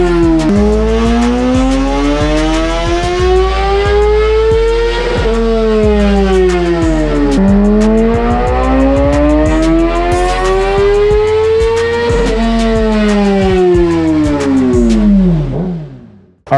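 2016 Kawasaki ZX10R sport bike fitted with MotoMax stacks, revving hard on a dyno: loud sustained engine wail climbing through gears with repeated rising sweeps, then cutting off abruptly at the end.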